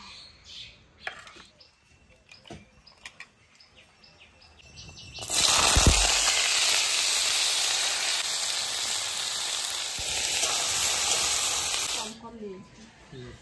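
Snakehead (shoal) fish frying in hot oil with a loud, steady sizzle that starts suddenly and holds for several seconds. Quiet clatter and scattered background sounds come before it.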